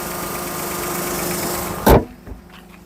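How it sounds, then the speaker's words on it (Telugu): A 2020 Maruti Alto 800 LXI petrol car with 35,000 km idles with a steady, quiet hum, then a sharp thud cuts in and the sound drops to near silence. "ఇంజన్ చూసుకోండి, సైలెంట్ ఉంది."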